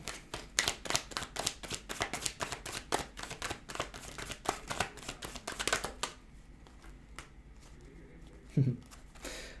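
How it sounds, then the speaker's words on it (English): Rapid riffling snaps of cards being shuffled, a quick flurry of crisp clicks that slows and thins out, ending with a soft thump. "have a different deck here. I just want to free shuffle"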